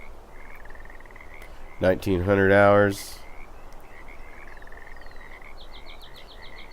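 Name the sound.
frogs croaking at night at Mosquito Lake, Russian Fishing 4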